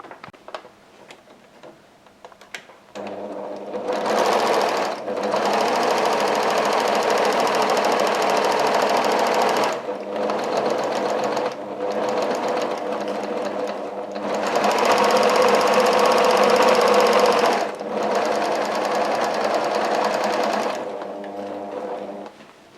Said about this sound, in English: And we'll just go and sew that.